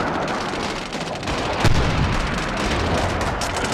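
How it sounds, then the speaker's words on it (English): Explosions and gunfire in the Medal of Honor Warfighter game, a dense rumbling barrage with one sharper blast standing out midway, continuous and fairly loud. "Explosions!"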